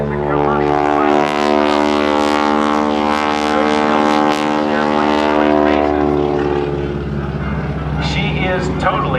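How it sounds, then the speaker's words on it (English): Loud, sustained propeller drone of a stunt airplane climbing at a naval air station airshow, the engine note fading slightly near the end while an announcer talks throughout. "Great view of this as the airplane goes up."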